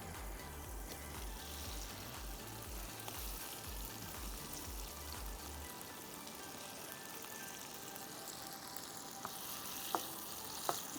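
Prawns fry in butter in a pan with a soft, continuous sizzle and crackle, a few faint clicks near the end, and a low tune playing quietly under it at first.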